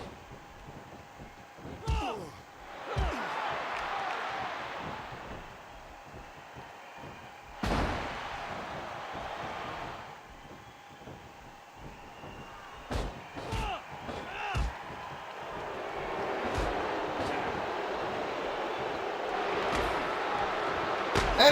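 In a pro wrestling match, a body slams into the corner turnbuckle, giving a loud sharp impact; further thuds and crashes scatter across a long stretch over steady crowd noise and commentary.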